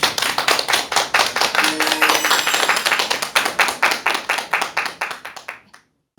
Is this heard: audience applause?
yes